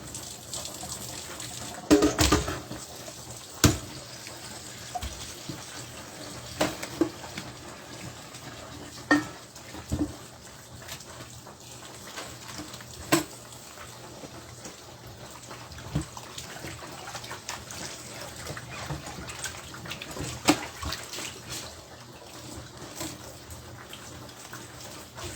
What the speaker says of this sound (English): we are going to rinse our meat again.